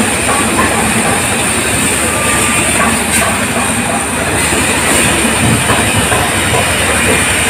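A train pulls away from the platform at Prayagraj Junction with a loud, continuous rumble, hiss and wheel noise that stays dense and steady throughout.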